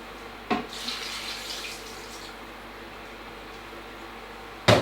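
Water pours in a steady stream into a slow cooker, bracketed by two brief clunks, one near the start and one at the end.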